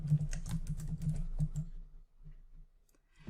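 Rapid keystrokes on a computer keyboard, a quick close run of crisp clicks for about two seconds, then a few scattered taps in a quiet room.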